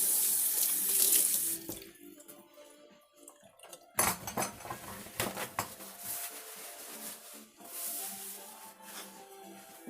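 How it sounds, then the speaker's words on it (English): Water runs steadily from a kitchen sink tap as hands are washed beneath it, with a brief lull and then splashing surges and faint clinks of dishes nearby. "I need to wash my hands again."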